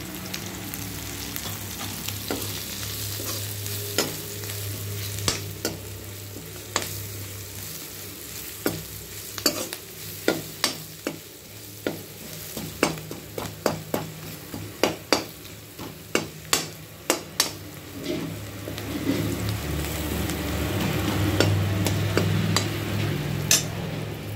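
Green chillies fry in oil in a pan as turmeric goes in, a steady close sizzle and crackle broken by frequent sharp ticks and spatters, with no talking.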